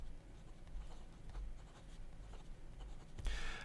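Soft, close scratching of a Hongdian M2 fine-nib fountain pen moving across paper in short strokes, quiet and continuous, with a slightly louder scrape at the end.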